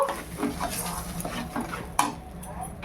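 A spoon works turmeric and salt into a pea filling in a pan over lowered heat, giving soft scraping and clinking strokes with one sharper knock near the end and a faint sizzle beneath.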